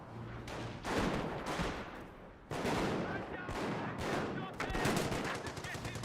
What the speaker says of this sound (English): Looks like the 30 cal does get a good volley into the Schimwagen.